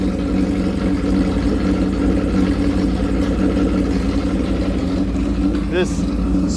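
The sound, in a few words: vintage motorcycle engine idling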